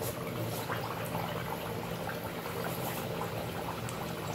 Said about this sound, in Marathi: तर हे तेलात सोडला मम्मीने वड्या.